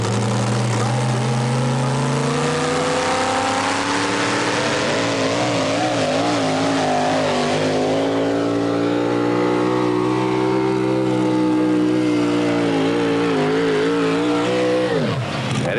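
Four-wheel drive pulling truck roaring down the track at a regional and national truck and tractor pulling competition, a loud sustained engine howl climbing and wavering in pitch before cutting off abruptly near the end.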